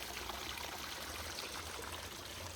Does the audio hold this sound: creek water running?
yes